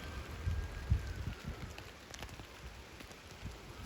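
A steady patter of August rain falls on a garden allotment plot beside kale beds, a soft, continuous hiss with scattered close drops, no voices.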